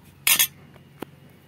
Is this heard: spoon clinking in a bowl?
yes